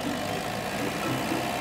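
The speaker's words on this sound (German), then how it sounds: "Hopp Hopp hat einen Traktor gebracht." A cartoon tractor engine rumbles steadily at close range, a continuous low idle with no voices.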